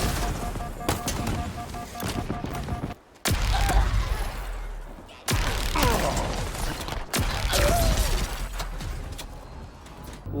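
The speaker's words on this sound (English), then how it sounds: "Another amazing gun is the Sentinel Beam. This thing just melts through anything in your path." Sentinel Beam energy weapon firing in Halo Infinite, loud sustained crackling bursts in several long streams separated by brief pauses, with mechanical whirring and game sounds around it.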